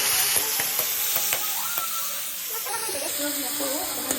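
Lobia sabji frying in a pan gives a steady, close hiss of sizzling throughout, with sharp clicks and taps from stirring scattered across it, and a faint tonal sound drifting beneath.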